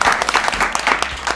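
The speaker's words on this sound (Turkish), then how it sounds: "Alkışlıyoruz. Hoş geldiniz. Sürekli alkışlıyoruz." A studio audience at a Turkish rap comedy show claps steadily, a busy, close patter of many hands that keeps going without pause.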